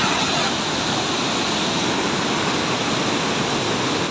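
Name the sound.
floodwater torrent rushing on the Indus at Kalabagh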